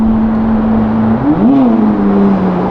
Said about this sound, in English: There's another Aventador arriving down here